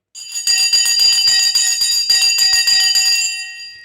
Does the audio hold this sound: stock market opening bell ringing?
yes